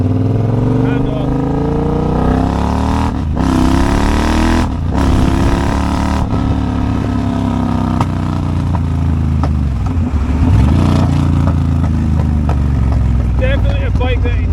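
A Triumph Bobber motorcycle engine revs loud and close, its pitch climbing and then dropping sharply at each of several gear changes, with brief lulls between pulls as it rides on.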